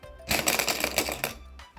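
A rapid run of small plastic clicks and ratcheting from a turning LEGO carousel SD card organizer, close and fairly loud, lasting just over a second.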